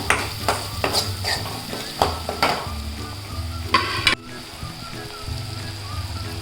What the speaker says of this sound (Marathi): मसाले थोडे परतून घेते टोमॅटो टाकते टोमॅटो थोडा मऊ करून घ्यायचा